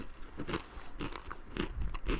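Crunchy chips from an Indian snack being chewed close to the mic, a steady run of loud, crackly bites and crunches repeating about every half second, no talking.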